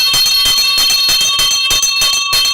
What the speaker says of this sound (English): Oga, they see my bell. Na bell I dey use o.